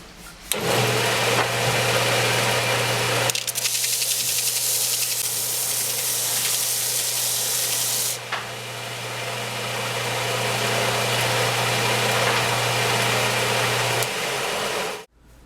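A belt sander runs steadily for about fifteen seconds, grinding the textured surface off a phenolic block, with a loud, even machine whine, a constant motor hum and a brief change in pitch partway through.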